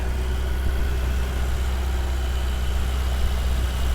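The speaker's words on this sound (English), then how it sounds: "Idle's really smooth. Sounds great." A 2016 Ferrari 488 GTB engine idles with a steady, smooth low rumble, holding an even level throughout with nothing else heard.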